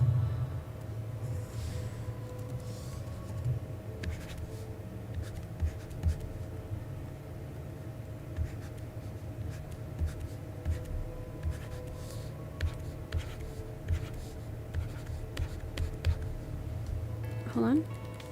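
A sketchbook pencil scratches steadily across paper in quick, soft strokes over a low background hum, quiet and close, with a faint murmur of voice now and then.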